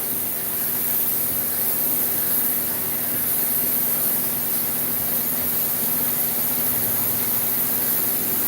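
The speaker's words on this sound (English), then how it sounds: "So Ed is spraying on a layer, kind of a darker layer" A paint spray gun applies a darker paint layer with a steady, continuous hiss of spray running unbroken throughout, broad and airy with a faint low hum beneath it.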